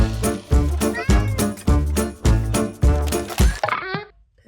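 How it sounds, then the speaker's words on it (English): A pet cat meows repeatedly and loudly up close, a rhythmic series of about eight insistent cries, each with a strong harmonic tone, ending in a drawn-out wavering call. "My cat is very annoying."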